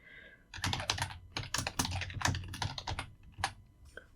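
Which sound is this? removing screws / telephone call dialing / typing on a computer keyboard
typing on a computer keyboard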